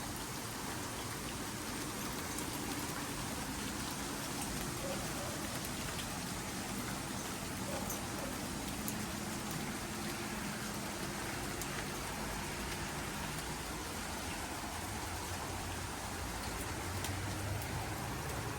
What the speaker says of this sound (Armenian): Մի փոքր լսենք անձրևի ձայնը, շատ հետաքրքիր է, շատ եմ սիրում